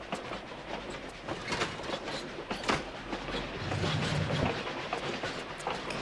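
Moving train in the video game Tomb Raider: The Last Revelation, desert railroad level: continuous loud rumble with rhythmic clickety-clack of wheels over rail joints, steady throughout.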